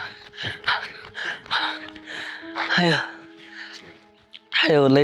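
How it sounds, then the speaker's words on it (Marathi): A person catches their breath after running, with gasping, ragged breaths between bouts of close talk and a sharp loud exhale at the end. "दम लागला भाऊ"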